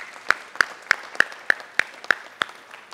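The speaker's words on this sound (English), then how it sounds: "So let's give them a great big round of applause" Clapping from an audience at an open house lecture, greeting guests who run an underwater ROV: about eight sharp, evenly spaced claps roughly a third of a second apart, moderately quiet, with no voices over them.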